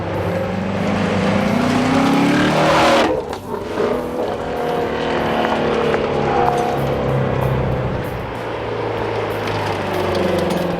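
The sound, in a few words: Ford Mustang V8 engine revving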